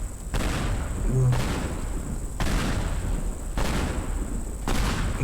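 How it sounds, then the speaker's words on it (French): Repeated heavy blasts as explosions tear apart a train station in the video game Teardown, five booming bursts at roughly one-second intervals over a constant rumbling background, loud and close, no talking. "On voit vraiment les explosions qui propulsent les..."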